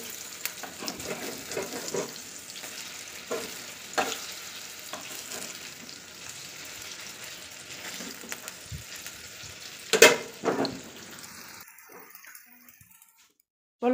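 Pitha made from flour batter frying in a pan, a steady soft sizzle with occasional scrapes and clinks of a utensil, quiet and close, fading out near the end.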